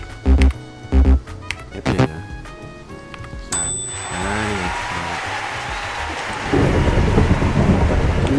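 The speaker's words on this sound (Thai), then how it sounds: "เสียงฟ้าร้อง" Thunder in the Minecraft Pixelmon video game: after a few short game tones, a loud broadband crack and rumble rolls in, then settles into a sustained low rumble that swells heavier near the end.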